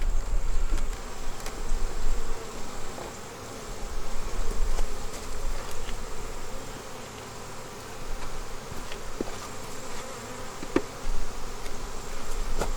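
A dense swarm of honeybees buzzes steadily inside and around an open beehive during an inspection before winter, with a constant close drone and occasional faint handling knocks.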